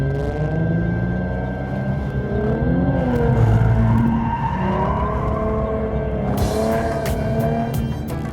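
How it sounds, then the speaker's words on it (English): A Ford Mustang drifts with its engine revving hard in rising and falling sweeps while the tires squeal and skid. The sound is loud, close and continuous, and no one speaks. "I will call that an official drift"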